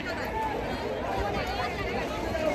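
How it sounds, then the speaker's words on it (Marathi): Dense crowd babble on the riverside ghats of Varanasi during Dev Diwali, a steady wash of many overlapping voices with no single speaker standing out. "अशी गर्दी आहे."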